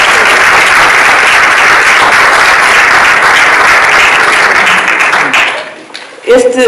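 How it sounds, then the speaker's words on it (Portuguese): Steady applause from a conference audience fills most of the clip, then thins out and fades, with a brief voice near the end. "E já agora aproveito para dar uma salva de palmas ao João pelo seu imenso trabalho."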